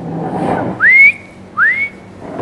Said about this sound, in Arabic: في ببغى عم يصفر